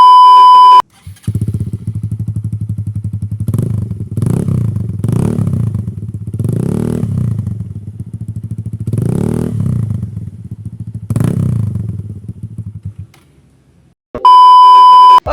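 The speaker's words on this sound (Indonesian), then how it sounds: "suara dari knalpotnya juga agak sedikit beda" A modified 2014 Yamaha Xeon scooter with an aftermarket exhaust idles with a throaty, pulsing note and revs up in about six sharp bursts, loud and close, with beeps at the start and end.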